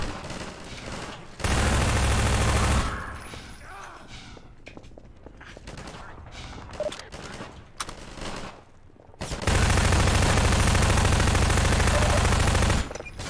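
Automatic gunfire in the video game Half-Life 2 rattles out in two loud, sustained bursts, with a quieter stretch of thuds, footsteps and scattered shots between them.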